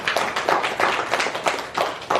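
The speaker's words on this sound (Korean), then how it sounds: "우리 하나님께 영광의 박수를 드리겠습니다" Clapping rises in a church service, a roughly regular series of claps from a modest group, brief and fairly close, with no talk over it.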